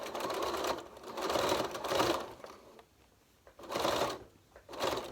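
A sewing machine stitches bias binding down the edge of a fabric envelope face mask in short bursts of rapid clatter, pausing briefly between runs, close and alone.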